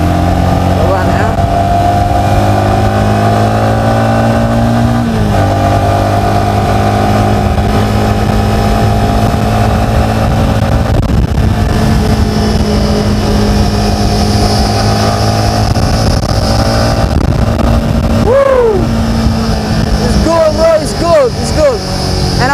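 A Yamaha XSR 155 motorcycle engine drones steadily during a ride, with pitch shifting through gear changes and wind rush around the rider, loud and close throughout.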